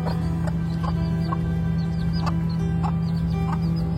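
A mother hen and her chick in a barn with dry hay: soft, scattered clucks and thin high peeps at close range over a steady low electrical hum.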